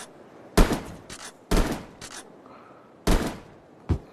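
Shotgun blasts in the Yeeps video game: four loud, sharp booms spaced unevenly across a few seconds, each with a short rattling tail, and no talking between them.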